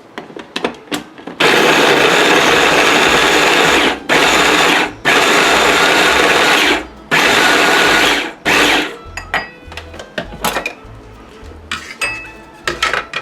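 An electric chopper grinds tomatoes for a lahmacun topping in loud motor bursts, several long whirring runs broken by short pauses, then softer rattling as the bowl is handled.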